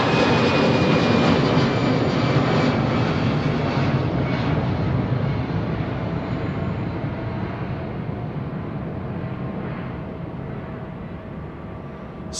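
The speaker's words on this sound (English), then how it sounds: "I think that's Emirates lining up now" An Emirates airliner lines up on a runway at London Heathrow, its jet engines roaring steadily and broadly at a distance, the roar easing slowly over about twelve seconds.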